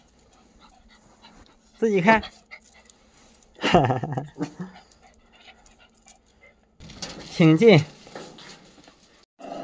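Two small puppies panting and whimpering in short bursts, close by, with people talking and laughing between the sounds in a quiet room.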